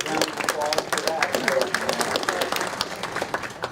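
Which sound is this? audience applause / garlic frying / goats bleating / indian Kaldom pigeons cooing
audience applause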